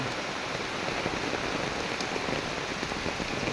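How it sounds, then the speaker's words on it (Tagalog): Heavy rain from Typhoon Enteng pours down in a dense, constant roar, close and uninterrupted. "Ang lakas ng ulan."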